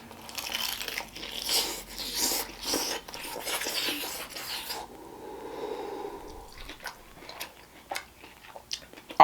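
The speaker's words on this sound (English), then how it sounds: "I hope the mic captured that crunch." Biting into a crispy-skinned chicken leg quarter: a run of crackly, crunchy chewing close to the microphone, loud at first, then softer crunches with small clicks toward the end.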